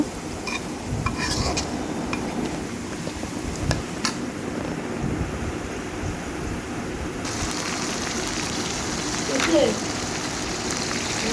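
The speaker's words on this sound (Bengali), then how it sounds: "তো আর একটু সময় ভেজে তারপর পেঁয়াজগুলো হচ্ছে নামিয়ে ফেলবো" Onions fry in a pan for chicken biryani, a steady dense sizzle with occasional scraping and utensil clinks as they are stirred, continuous throughout.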